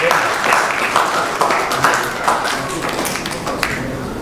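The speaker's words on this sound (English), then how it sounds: "Please give them a big round of applause for sponsoring today's feast." Audience at a Sunday temple feast claps for the sponsoring family, a steady patter of applause from a moderate-sized crowd lasting several seconds with brief louder swells.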